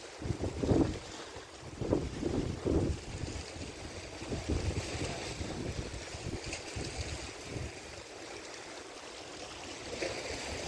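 Gusty sea wind at the Al Khobar seaside in Saudi Arabia buffets the microphone in uneven rumbling bursts, with a faint watery wash beneath; no voices.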